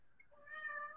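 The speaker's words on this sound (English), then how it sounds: "is my kitten making too much noise?" A kitten gives a single faint, rising meow, thin and brief, heard alone against near silence.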